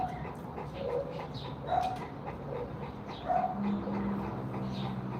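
Large bull mastiff dog making soft whines and yips over breathy panting, close by but fairly quiet, with faint background noise throughout.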